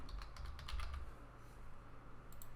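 Quick clicking keystrokes on a computer keyboard, close and fairly soft, a burst of rapid taps and then a few scattered presses, with no one talking.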